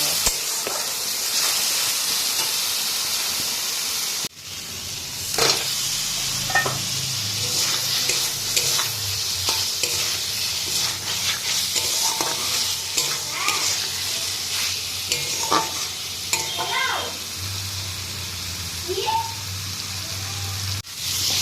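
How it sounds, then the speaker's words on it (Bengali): Spice masala fries with eggs in a pan under a continuous close sizzle and hiss, with stirring scrapes and small clinks scattered throughout. "এখন মশলাটাকে ভালো করে কষিয়ে ডিম দিয়ে অল্প একটু জল দিয়ে"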